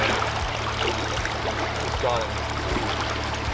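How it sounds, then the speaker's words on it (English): Fast river water rushes and burbles steadily during a winter steelhead fishing trip, a close, continuous wash that runs under a man's short spoken remark. "Yeah, I like this fast water."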